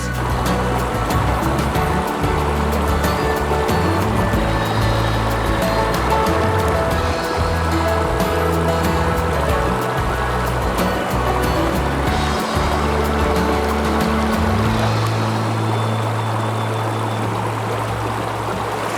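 A river cascade in the mountains near Canmore pours steadily, a dense broadband rush of running water that stays loud and continuous from start to finish, with no voices over it.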